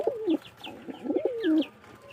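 Domestic pigeons kept at a house coo nearby in soft, rolling, throaty phrases, two bursts in about two seconds, with a few faint higher chirps from other birds behind them.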